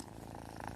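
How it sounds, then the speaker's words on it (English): A domestic cat purrs steadily and close, a soft continuous rumbling vibration with no pauses, quiet and alone. "It's a cat purring."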